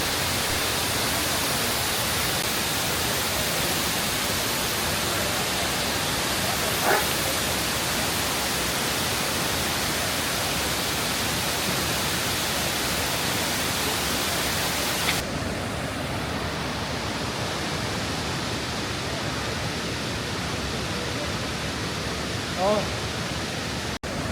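Asia's largest waterfall in Guizhou, China, roars as a steady, loud broadband rush of falling water that fills the whole stretch, its tone shifting abruptly partway through as the vantage changes.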